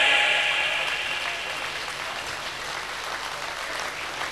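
An audience claps together at a comedy show, a loud dense burst of applause that eases slightly and continues steadily for a few seconds.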